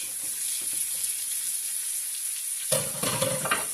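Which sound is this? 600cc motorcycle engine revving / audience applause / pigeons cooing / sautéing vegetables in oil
sautéing vegetables in oil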